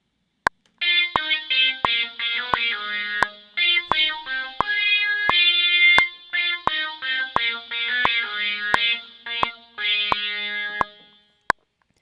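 A guitar-like lead line recreating a song's solo, built in Logic Pro, plays quick distorted, chorused runs of notes, with sharp metronome clicks ticking evenly underneath.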